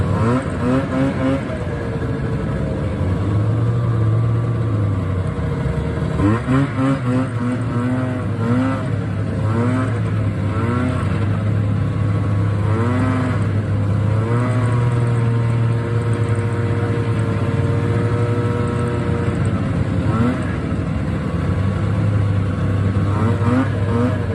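Vintage snowmobile engines rev and drone continuously on a group ride, with repeated rising and falling throttle surges close by and no talking.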